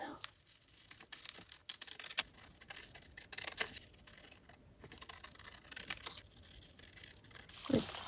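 Paper pieces cut out with scissors: a run of crisp, close snips and light paper rustles at an uneven pace, with a louder crinkle near the end.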